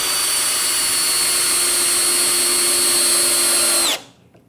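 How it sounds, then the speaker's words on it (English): A cordless drill driver runs in first gear in drilling mode, a loud steady high-pitched motor whine held for about four seconds before it stops abruptly and spins down, with no talking. "we're in first gear and drilling mode, so we're using the low gear to give us a decent amount of torque"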